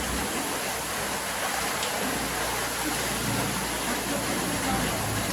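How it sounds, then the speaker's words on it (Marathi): Steady rain falls in a continuous, even wash of hiss that stays constant throughout, with no voices. "बघा, मस्त पाऊस चालू आहे."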